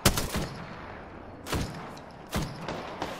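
Gunfire in Apex Legends, with three or four separate sharp, moderately loud bursts of shots spaced about a second apart over a quiet background.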